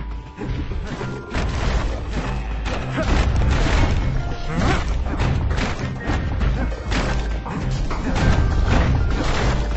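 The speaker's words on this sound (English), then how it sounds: "Folks who fouled up would do their time here, smashing things to bits." Junk smashed to bits in a scrapyard in the video game Bastion, a dense run of heavy crashes, thuds and booms that keeps up with little pause, loud and close, with a narrator's voice at times over the din.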